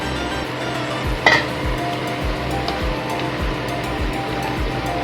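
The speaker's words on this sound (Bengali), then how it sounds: "এর মধ্যে দিয়ে দিচ্ছি ভেজে রাখা মাশরুম" Fried mushrooms go into a pan of boiled potatoes in light gravy, giving a brief sizzling splash followed by a steady low simmer and soft, regular thumps of stirring.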